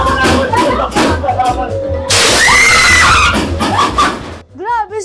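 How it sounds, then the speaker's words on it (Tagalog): Several people shriek in fright during a spooky outing, loud high-pitched screams bursting out repeatedly over a noisy background with chatter, one long scream sustained in the middle and a rising wail at the end. "mayat maya yung tili"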